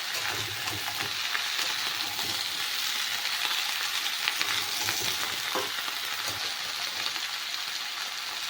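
Flat beans and brinjal fry in a pan with a steady, close hiss and crackle of oil, a dense even sizzle with occasional stirring clinks and no talking.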